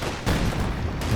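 Gunfire in Company of Heroes 2 during a 2v2 match, a dense, loud stretch of booming shots and rumbling battle noise that holds steady throughout, with no clear gap between blasts.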